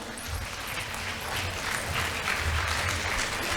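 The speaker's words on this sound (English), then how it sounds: "Can you please give her a big round of applause?" An audience at a preschool annual day claps steadily and loudly for a teacher for about three and a half seconds, a dense wash of hand claps with no voices standing out.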